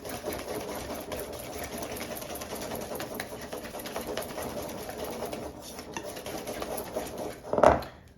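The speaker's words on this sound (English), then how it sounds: "just whisk it all up together to get it really nice and incorporated there" Cream cheese keto cake batter being whisked in a bowl, a steady, rapid scraping and whirring that keeps on without a break, closing with one sharp clink near the end.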